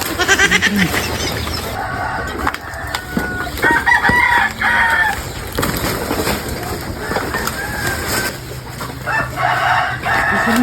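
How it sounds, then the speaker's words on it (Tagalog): A rooster crows repeatedly at close range with hens clucking around it, over a busy outdoor background with a few voices. "Kagandang manok niya ba"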